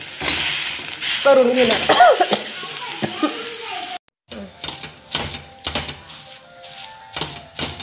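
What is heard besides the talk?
green chillies being crushed on a hot griddle for Kolhapuri thecha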